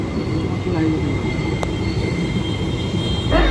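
The 13031 Jaynagar Express runs into Sheoraphuli junction, heard from on board as a loud, continuous rolling rumble with faint high wheel squeal. The rumble swells near the end.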